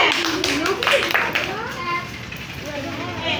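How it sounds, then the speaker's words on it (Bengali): A classroom of young children claps together in a round of applause during a second-grade maths lesson, the hand claps dense and continuous amid excited children's voices and chatter. "একটা হাততালি হবে।"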